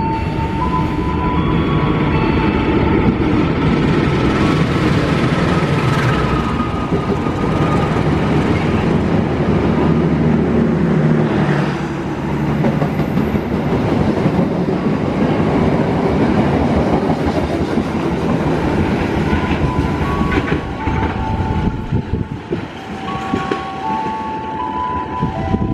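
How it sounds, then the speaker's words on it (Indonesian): Cikuray passenger train hauled by a locomotive passes close by, a long steady roar of wheels with rhythmic clickety-clack over rail joints and a brief horn, fading slightly near the end. "Berikutnya kereta api Cikuray"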